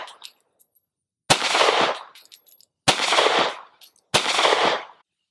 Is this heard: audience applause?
no